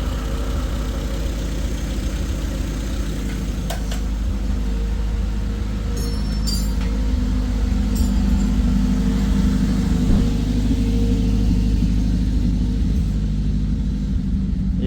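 A Renault Clio 2 1.6 8-valve engine runs steadily after starting, a continuous low rumble with brief clicks and faint mechanical ticks over it, fairly close and even in level throughout.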